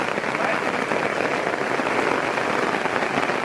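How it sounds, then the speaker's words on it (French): Hail from a mountain thunderstorm patters densely and evenly on surfaces close by, a constant loud hiss-like rattle with no pause. "Bon bah on est sous un orage de grêle."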